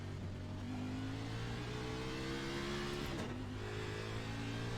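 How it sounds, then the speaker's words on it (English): An Xfinity stock car in a racing video game drives a qualifying run at Atlanta, its engine droning steadily and loudly with rising harmonic tones as it accelerates, a brief shift dip midway. "now we'll go out in the Xfinity car and run the qualifying setup as well"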